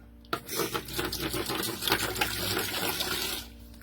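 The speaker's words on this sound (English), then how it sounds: "So let's put a little water in there" Water gushes into a plastic bucket from a tap or hose during a molding project. The stream is a continuous, splashy rush for about three seconds, heard close and moderately loud, and it tapers off at the end.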